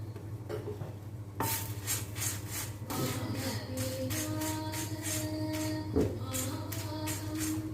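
Red chillies dry-roast in a pan with a dry scraping, stirring rustle and a faint sizzle, steady and close under a low background hum, with an occasional knock of the spoon.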